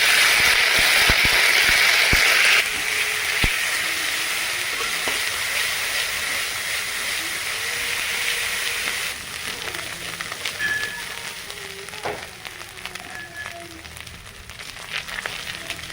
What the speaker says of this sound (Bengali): তেলের মধ্যে আদা রসুনটা ভালো করে ভাজে নিতে হবে